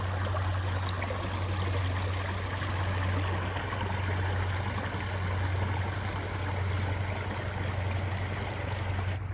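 Creek water runs steadily over the beach where Thames Creek meets the shore at Dash Point State Park, a continuous close rushing wash with a constant low hum beneath it.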